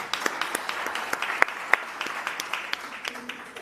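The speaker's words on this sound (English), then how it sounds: "I thought you would clap hands for that" Audience applause at an employee celebration event, scattered claps with a few sharp close ones standing out, moderately faint, with talk underneath.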